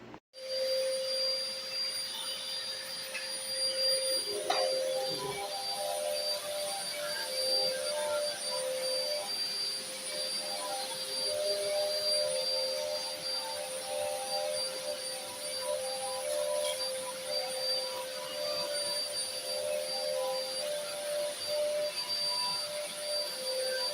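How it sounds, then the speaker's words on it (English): A Hoover Complete Performance corded bagged vacuum cleaner runs steadily the whole time, a constant broadband roar with a thin high whine on top, close and unbroken, with no talking. "This is the vacuum I just bought and took out of a box."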